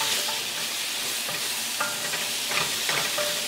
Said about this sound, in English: So now we saute the onions here.